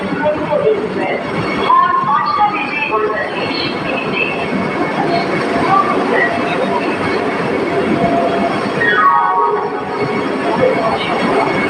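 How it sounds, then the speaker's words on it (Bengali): A train bound for Mumbai moves along the rails past a platform, a steady loud rumble with wheel squeals and a rising whine near the end, while people talk over it. "আমার ট্রেনগুলো দেখে জাপানের মতো লাগে জাপানের ট্রেনগুলোর মতো"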